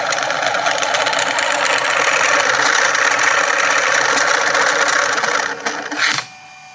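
Magnet spun by a 3-phase electric drive, a loud, continuous rattling mechanical buzz with a fast rhythmic chatter that holds for about six seconds before cutting off abruptly into quiet.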